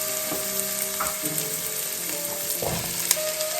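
Portobello, cremini and white mushrooms fry with softened shallots and garlic in a pan, a steady close sizzle with a few soft stirring knocks and scrapes, no voices.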